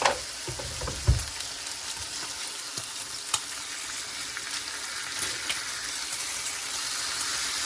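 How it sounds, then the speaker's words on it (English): Bacon frying in a pan, a continuous close crackling sizzle with a couple of clunks from the pan or utensil near the start and faint scattered pops throughout. "Let me get something to turn this here bacon."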